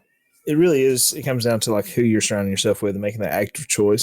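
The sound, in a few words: cat meowing in the background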